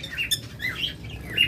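Lovebirds chirping in an aviary, with short high tweets repeating over a steady low rustle and background hum, at moderate level, close by and without speech.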